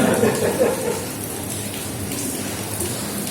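Steady rain falls in a dense, even wash of hiss and patter, moderately loud and continuous, with no voices over it.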